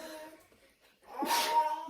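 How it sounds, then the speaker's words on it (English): A single loud sneeze from a person baking in a home kitchen, close to the mic, preceded by a quiet intake of breath. "I have been sneezing all afternoon"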